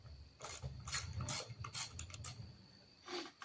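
A hand ratchet works to remove the fan from a Robin 2PG golf cart engine, giving a close run of quick metallic clicking bursts with short pauses between strokes.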